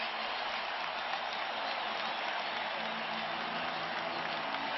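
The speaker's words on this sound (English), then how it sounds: "Now you hear the crowd." Basketball arena crowd at a 2011 playoff game between the Bulls and Pacers, a broad sustained roar of cheering and applause that holds steady and loud throughout.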